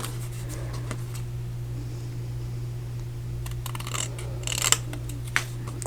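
Scissors snipping a notch into craft paper at a tabletop, a few short crisp cuts clustered near the end over a steady low electrical hum.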